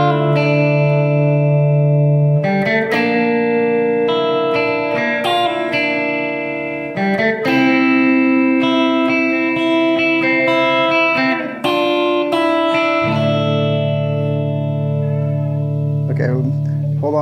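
Electric guitar played clean through a Marshall SV20H head with no pedals, loud and close, ringing chords and single notes with sustained tones and a slight room echo, no talking over it.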